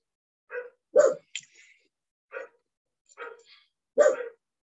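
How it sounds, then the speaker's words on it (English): Dogs bark outdoors in short, sharp, separate bursts, about six barks over a few seconds with quiet gaps between, moderately distant and with no talk over them. "The dogs are barking."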